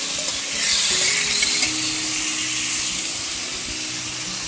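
Cucumber and turmeric are stirred in a hot frying pan, giving a steady bright sizzle with soft scraping from the stirring, close and continuous with no talk.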